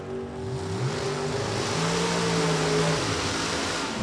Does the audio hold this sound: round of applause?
no